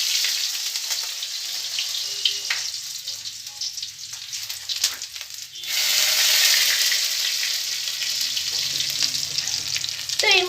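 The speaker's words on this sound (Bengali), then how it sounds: "তো তেল আমার গরম হয়ে গেছে, আর এর মধ্যে কিন্তু আমি শুকনো লঙ্কা দিয়ে দিয়েছি, আর দিয়ে দিয়েছি শুকনো রসুন।" Dried red chillies and dried garlic sizzling in hot oil in a home kitchen pan for methi greens, a steady close crackle with brief stirring clatter, briefly quieter before the hiss rises again.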